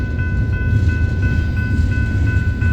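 A train rolls past close by, a loud, steady rumble with rattling wheel noise and faint high tonal whines throughout, no talking.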